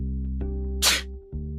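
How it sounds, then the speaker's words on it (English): A single sharp sneeze bursts out over a steady low hum of background music, loud and close, lasting under half a second before the backing sound carries on. "Sneezing, stomach cramps."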